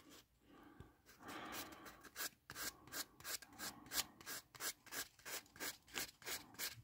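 Sheet of 400-grit sandpaper scuffing a small model Corvette body, a steady run of rhythmic back-and-forth rasping strokes, close and fairly quiet, with no voices.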